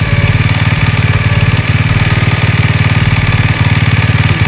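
Honda XRM/Wave motorcycle engine idling during carburetor tuning: a steady, close, loud low putter with an even rhythmic pulse, running alone without talk.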